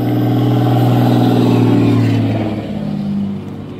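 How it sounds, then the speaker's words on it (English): A jacked-up truck speeds past on a Texas road, its engine roaring loud and close, then fading as it moves away. "See those jacked up trucks as it sped by?"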